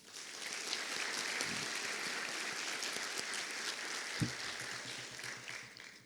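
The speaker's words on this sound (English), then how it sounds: "I'd like to recognize them as well with a round of applause." Audience clapping at an academic awards ceremony sounds faint and distant, an even wash of applause held for about six seconds with a couple of soft thumps.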